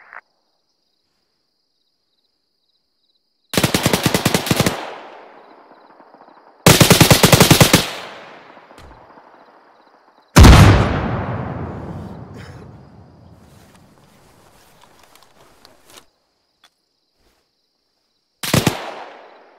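Four loud, close bursts of machine gun fire rip out, each a second or so of rapid shots followed by a long echoing decay, separated by quiet pauses.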